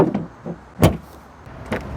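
A solid car door on a Volvo S80 shuts with a heavy, close thud, with a second softer thump about a second later and faint handling noises around them.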